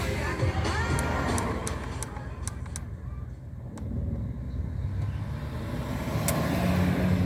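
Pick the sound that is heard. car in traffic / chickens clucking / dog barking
car in traffic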